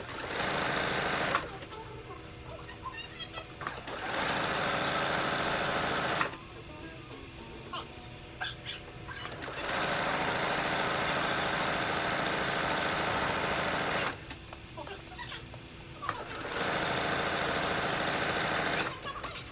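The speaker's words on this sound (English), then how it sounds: "You're sewing all the way around the bottom edge of the main and the lining, sandwiching them together." Sewing machine stitching around the bottom edge of a crop top, joining main fabric and lining; steady whirring runs in several bursts separated by short pauses, with a faint voice talking between runs.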